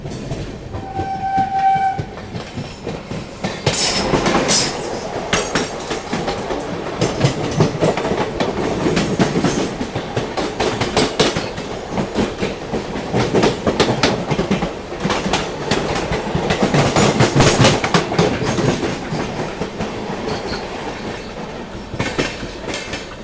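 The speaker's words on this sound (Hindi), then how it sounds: "कासगंज दिल्ली इंटरसिटी आ रही है अभी" The Kasganj–Delhi Intercity train rolls into an Indian railway station, loud and close, its wheels clattering steadily over the rails with a horn blast near the start and a continuous roar of passing coaches.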